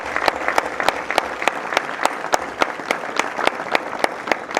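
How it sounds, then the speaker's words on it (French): An audience claps for the president at a mock African Union summit, with loud, rhythmic, evenly spaced claps in unison that beat steadily throughout. "Et je pensais qu'on pouvait applaudir pour le président."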